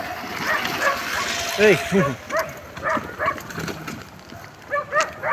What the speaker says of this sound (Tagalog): Oh, mga aso. Mga habol.